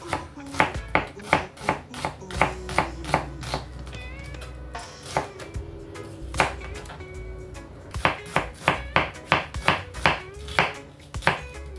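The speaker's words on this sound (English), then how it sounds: "I'm gonna go ahead and have 1 onion chopped, which I'm cutting it in 2" A knife chops an onion on a cutting board in quick, crisp, rhythmic strokes, with two long bursts of evenly spaced chops separated by a brief pause, close and loud with no talking.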